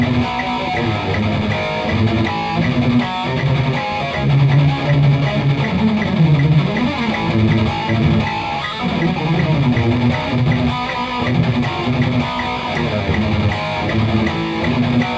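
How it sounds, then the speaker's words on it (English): A fierce Euro metal groove on distorted electric guitar with double-picked chords drives steadily over a full, loud backing, dense and continuous with no talking. "just so you guys get an idea what the groove is like behind this double picking etude"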